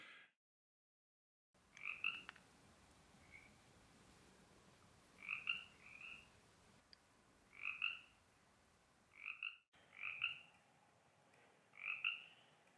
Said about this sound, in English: I'm loving the sound of the sapos, the frogs.